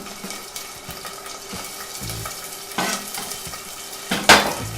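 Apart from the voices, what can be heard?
anchovies and garlic frying in a pan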